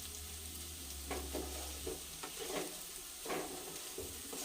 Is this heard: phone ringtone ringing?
no